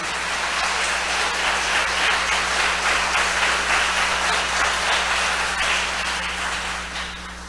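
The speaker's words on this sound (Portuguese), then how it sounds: "Você pode aplaudir o Senhor?" A church congregation applauds together in a dense, even wash of clapping that holds steady for several seconds before gradually thinning out, with no speech over it.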